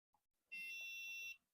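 An HP Z440 workstation gives its single POST beep at startup: one steady, high-pitched electronic tone lasting under a second, clear against a quiet room with faint background rustle.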